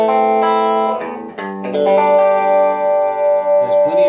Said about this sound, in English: This is just reverb.